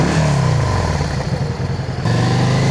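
Motorcycle engine running loud and close with a steady rumbling drone, dipping slightly midway and then picking up again, with no voices.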